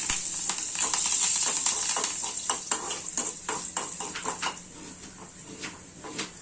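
Curry leaves and asafoetida frying in hot oil, a loud, steady crackling sizzle that bursts up at first and then settles into scattered pops and spits, close up with no voices.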